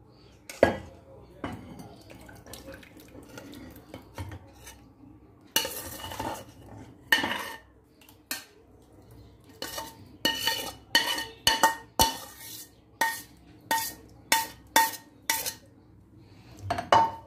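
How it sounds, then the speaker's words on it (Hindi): Lachha rabri is moved from one pot into another, with metal utensils clinking and scraping against the pot in repeated sharp knocks that grow steadier and more rhythmic toward the end, close up with no talking. "अब इस रबड़ी को हम दूसरे बर्तन में ट्रांसफ़र कर लेंगे"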